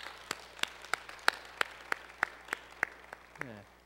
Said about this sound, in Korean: 우리 하나님 높이는 박수 한번 같이 하겠습니다